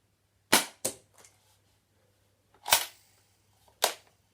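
UDL Super 90 XM1014 shell-ejecting Nerf gun, four sharp close snaps in two pairs, each firing clack followed by a lighter mechanical click, with quiet gaps between.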